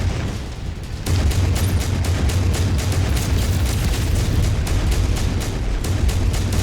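A mech blows up in the MechWarrior video game, and a heavy booming explosion gives way to a sustained roar of rumbling blasts and crackling debris that stays loud for several seconds.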